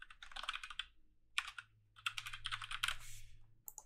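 Bursts of typing on a computer keyboard while filling in HTML table column headers, quick clustered keystrokes with short pauses between words, close and clear with no talking.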